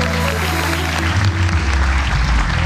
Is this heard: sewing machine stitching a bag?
no